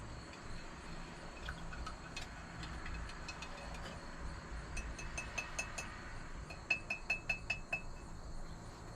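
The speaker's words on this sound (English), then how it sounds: "So I'm going to stir this one more time." A utensil scrapes around the inside of a glass ball jar while homemade salve is stirred, giving faint ringing clinks that grow into a rhythmic run of taps near the end over a quiet background hum.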